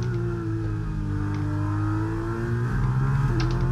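A Formula racing car engine in the F1 23 video game, heard as a steady, loud high-pitched whine that rises and falls slightly with gear changes, continuous and close, with no talking over it.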